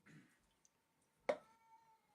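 A house cat gives a single short meow, faint and close in a quiet room, after a brief soft sound.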